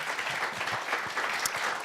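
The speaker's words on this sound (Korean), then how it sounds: "원장님, 회장님께 다시 한번 박수 좀 부탁드릴까요?" A seated audience at a televised health lecture concert gives a short burst of steady applause, many hands clapping evenly for under two seconds at moderate loudness.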